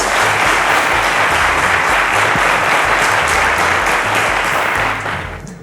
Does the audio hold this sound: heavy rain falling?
no